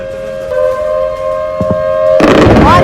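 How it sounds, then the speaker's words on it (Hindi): Explosions during a Pakistani drone attack on Ferozepur: a steady siren wail runs throughout, a couple of short thumps land mid-way, then a loud broadband blast erupts near the end. "ये धमाके की आवाज जो आप सुन पा रहे हैं"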